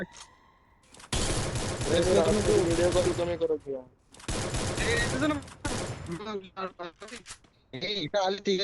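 Rapid bursts of gunfire in the video game Free Fire, two long fusillades followed by shorter clipped volleys, loud and close, with game voices and effects overlapping.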